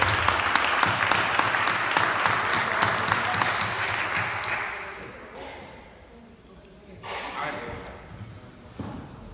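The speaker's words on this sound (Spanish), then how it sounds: "Demos un fuerte aplauso" Loud audience applause in a university lecture hall greeting a professor, a dense wash of clapping that fades after about five seconds, followed by a quieter stretch with some scattered claps.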